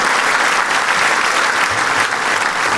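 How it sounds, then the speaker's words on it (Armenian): An audience at a women's club TV show applauds loudly, a dense steady clapping that fills the space from start to end with no voices over it. "Ծափարենք եւս մեկ անգամ բարձր գրիգին,"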